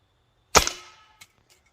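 A Ruger Air Hawk Elite II air rifle fires a single sharp crack, followed by the pellet smacking a can in the backyard, then a couple of faint ticks as it settles.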